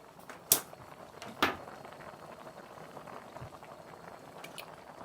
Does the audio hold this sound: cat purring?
no